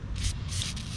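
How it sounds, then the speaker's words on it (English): Two short hissing bursts of an aerosol spray, close up, separated by a brief pause. "So I want to grab this stuff, spray everything down as best I can."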